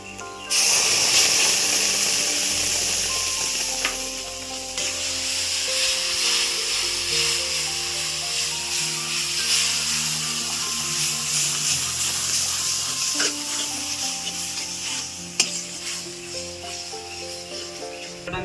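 Tomato paste masala sizzles loudly and continuously in hot oil while being stirred, for a potol chingri dish, with no talk.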